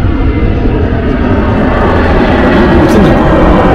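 A loud, continuous roar of an airplane passing overhead near Haneda Airport, heard from Jonanjima Seaside Park, a broad rumbling wash that swells slightly as it goes by.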